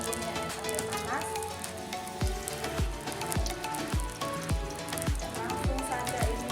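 Spiced chicken pieces frying in hot oil in a wok, giving a dense, constant crackling sizzle with soft rhythmic thumps beneath, close and fairly loud.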